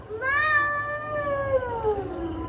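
A child imitates a cat, giving one long, drawn-out meow that rises and then slowly falls. The voice is close and clear against a quiet room.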